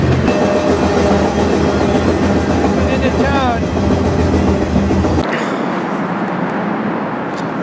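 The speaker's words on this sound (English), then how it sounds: "Well, the train has stopped" A freight train heading toward El Paso, Texas rolls along with loud rhythmic clickety-clack and rumble, then the low rumble drops away as it slows; someone speaks briefly over it.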